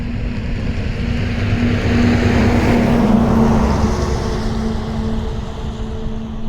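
A steady, rumbling engine drone runs throughout with a low hum and wind-like noise over it, from a tractor hauling salt from salt fields to a crusher at a distance.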